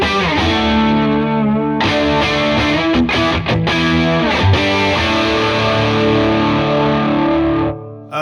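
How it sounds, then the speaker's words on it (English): Electric guitar run through an Eventide H90 using an 808-style overdrive paired with chorus, giving a thick, loud, sustained distorted tone with strummed chords and a few sharp attacks, ringing out alone before cutting off near the end. "It's kind of crazy how good that 808 sounds in the H90."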